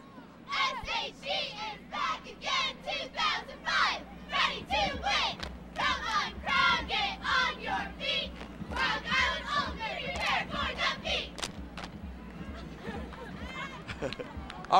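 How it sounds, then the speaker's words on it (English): Sacred Heart Griffin Cyclones cheerleaders shout a loud rhythmic chant in unison at the 2005 IHSA Class 5A boys football championship game, with close, punchy, repeated voiced bursts over a steady stadium crowd murmur. "we're going to have them do a cheer"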